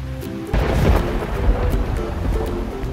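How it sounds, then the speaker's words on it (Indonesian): Thunder in the rainy season, a sudden loud deep crack and rumble that rolls on for a couple of seconds, with no voices. "Petir ya, petir!"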